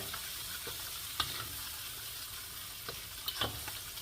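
Mud crab and vegetables stir-frying in XO sauce in a wok, a steady broad sizzle with a few sharp ticks and clacks of stirring scattered through, close and alone.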